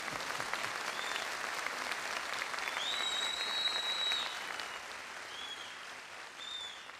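Sustained applause from a political rally audience in Istanbul, a steady crackling wash of clapping held at even strength for several seconds before easing slightly, with faint whistles over it.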